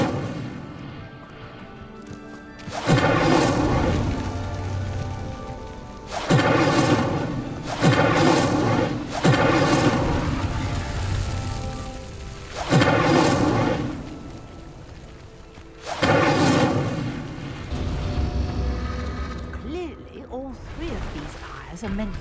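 Incendio fire spells cast in Hogwarts Legacy to light pyres: a series of loud whooshing, booming bursts, each a few seconds long and separated by short gaps, with a quieter game backdrop between them.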